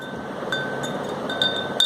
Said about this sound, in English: Now I am going to pour some sand inside this glass tumbler.